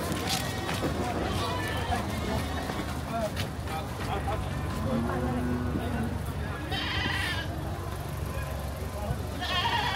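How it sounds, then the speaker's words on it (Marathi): Sheep and goats bleat at a busy goat market in Nizwa, Oman, scattered calls rising over the crowd's hubbub, with nearby voices talking throughout. "हे मेंढ्या का बकऱ्या ही लोक घेऊन चाललेली आहेत"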